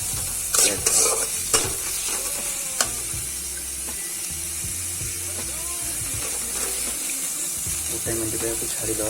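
Onions frying in a pan for an onion-tomato sabji, a steady loud sizzle with occasional stirring clatter and scraping, plus faint voice-like sounds in the background.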